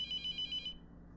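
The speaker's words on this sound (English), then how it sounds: "It doesn't stop ringing. It's telling me to answer it." A phone rings in The Mortuary Assistant horror game, a clean electronic trill pulsing in quick repeated bursts before cutting off abruptly, leaving a faint hum.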